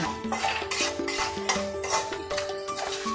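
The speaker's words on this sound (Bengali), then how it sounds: "এবারে আবার কিছুক্ষণ আমি একটু নাড়াচাড়া করে নেব" Spices for a prawn and taro-stolon curry being stirred in a pan: a brisk, rhythmic run of metal scrapes and clatters against the cookware, close and continuous, with little sizzle beneath.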